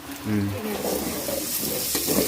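Water pours into a cooking pot in a home kitchen, a steady splashing rush over a couple of seconds, with voices talking over it.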